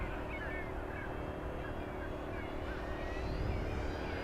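An FMS 1700mm Corsair V3 radio-controlled airplane, fitted with a new propeller and running on 6s power, flies past with a steady, droning motor and propeller whine that holds throughout, blended with wind noise.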